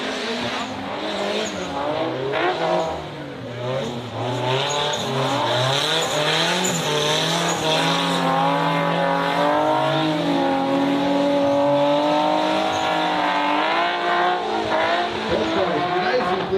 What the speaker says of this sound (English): Cars are off, and Nathan Karlstrom will bring us up to the initiation cones